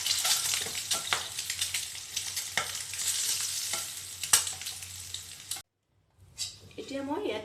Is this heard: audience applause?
no